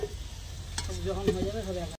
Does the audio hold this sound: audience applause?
no